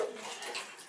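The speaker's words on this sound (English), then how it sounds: "rinse everything." Water rinsing over parts of a Numatic Henry HVC200 vacuum cleaner during a restoration, a steady close splashing wash lasting about a second with no talking.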